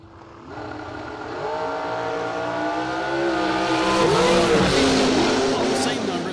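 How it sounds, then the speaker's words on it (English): A drag race car's engine revs hard at a memorial drag race as the throttle is rolled in and out. The pitch rises and falls in waves, loud and close, under an announcer's commentary. "You heard him rolling the throttle in and out there."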